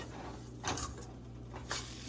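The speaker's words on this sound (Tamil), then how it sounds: "அடுப்பை குறைச்சிட்டு ரவையை அப்படியே வறுத்துடலாம்." Faint scraping and stirring as semolina roasts in a pan over low heat, a few soft strokes repeating every second or so over a quiet background hiss.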